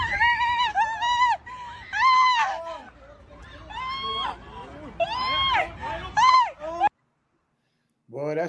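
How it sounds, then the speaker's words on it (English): A woman lets out a string of loud, piercing screams in Thailand, the wavering shrieks rising and falling one after another before a brief silence and a final cry. "Nothing's worse, more blood curdling than a woman screaming"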